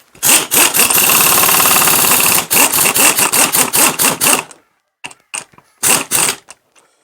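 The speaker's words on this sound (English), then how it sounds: "That's our flywheel nut back on." A socket wrench spins a flywheel nut tight on a vintage mini tractor, giving a loud, dense rapid ratcheting burst for several seconds, then a few shorter separate bursts and clicks with brief pauses between them.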